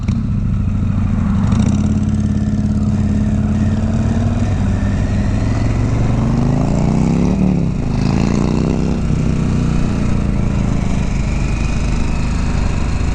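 A Harley Davidson 1250 Sportster S rumbles steadily while being ridden, its engine note rising and falling as it accelerates, loud and close throughout.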